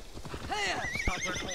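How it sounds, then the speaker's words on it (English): Horse hooves clip-clop steadily while the animal neighs and whinnies loudly in Assassin's Creed Valhalla, the calls rising and falling over the hoofbeats across a short stretch of game audio. "Stubborn horse."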